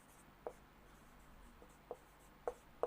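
Teacher writing on a board during a physics lesson, a few faint scattered taps and scratches of the marker or chalk, about four short strokes spread over a quiet room.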